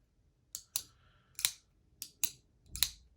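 An Asher Knife Co Centri folding knife clicks crisply as its blade opens and closes on bearings, six sharp, close snaps in uneven pairs within a quiet room, with no one talking.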